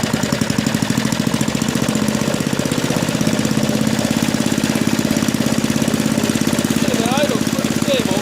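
A small engine with a mechanical governor starts and settles into a steady, rapid, loud running chatter close by, holding an even idle throughout.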